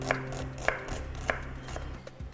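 A knife chops an onion steadily on a board, three or four crisp close thuds spaced about half a second apart, with no talking.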